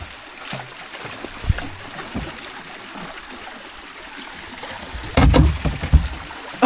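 Kayak on a glacial lake in Alaska bumping into glacier ice: soft paddle strokes and water lapping, then a louder knocking and scraping burst near the end as the hull meets the ice, with no talk.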